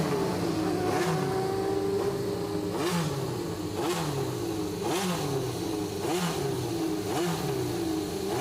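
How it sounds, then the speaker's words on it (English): The Shadow DN1 Formula 1 car at the Goodwood Festival of Speed: a loud, continuous engine roar that rises and falls in repeated revving sweeps, with no talking over it. "this is the first of the Shadow Formula 1 cars, the DN1, George Fulmer raced it"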